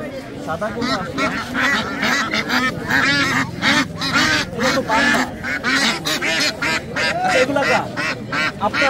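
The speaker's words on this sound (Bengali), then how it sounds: "দেখতে পাচ্ছেন পেতি হাঁস, শীতকালের হাঁস" Peti ducks, a winter duck breed, quack and honk continuously and noisily at a village market, many birds close by, while people talk over the flock.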